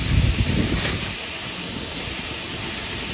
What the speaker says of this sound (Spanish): Vamos a echar primer ya